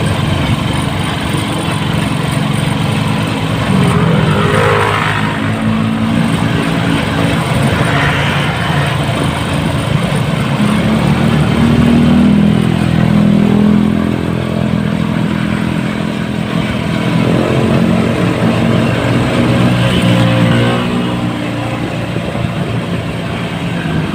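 A motorcycle engine drones loudly and continuously while struggling to climb uphill in cold weather, its pitch rising and falling slightly as the bike keeps moving, with wind noise over it.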